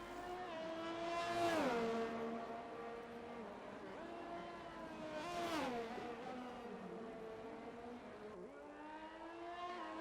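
An F1 video-game race car does slow parade laps at Brazil, its engine note rising and falling in two clear passing sweeps with pitch shifts as it goes by, fairly faint and steady.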